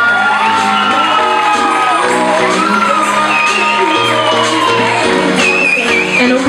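A crowd at the Miss Fashion 2016 semi-final cheers loudly for a finalist, with whoops, shouts and high yells packed together in a dense, sustained roar that carries on for the whole stretch.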